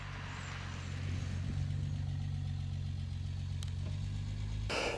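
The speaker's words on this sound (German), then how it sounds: "das Auto fährt sich sehr sportlich, macht auch Spaß hier mit der Schaltung" A restored 1969 Mercedes 280 SL Pagode with a four-speed manual gearbox hums along at a steady drone from inside the car, its engine note low and constant, with a brief click near the end.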